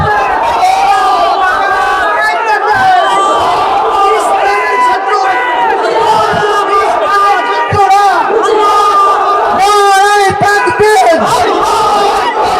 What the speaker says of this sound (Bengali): তাকবীর বলো জওয়ান, জোরে বলো জওয়ান